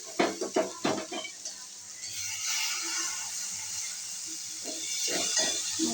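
A utensil stirs moong dal into amaranth stems in a pan, scraping and clinking against the metal in a quick run of knocks, then a soft steady sizzle and hiss, with more clatters at the end.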